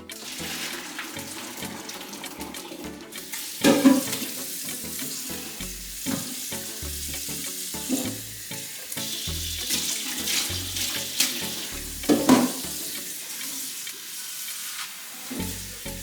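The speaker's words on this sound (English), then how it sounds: "I will put fresh water on it now and have it boil a second time." Fresh water runs from a tap into a pot of saltfish in a home kitchen, a steady splashing pour broken by a few sharp clinks and knocks of the pot.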